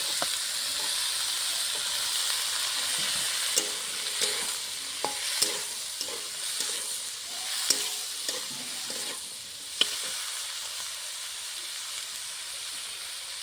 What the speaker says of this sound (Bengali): তেলের সঙ্গে আমার সবজিটাও ভাজা ভাজা হয়ে যাবে